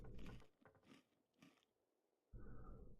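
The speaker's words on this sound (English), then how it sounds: "We'll eat that crunchy bar." Crunchy bar eaten by a character in The Long Dark, heard as two bursts of crisp biting and chewing about a second apart, moderately close and quiet, with no talk.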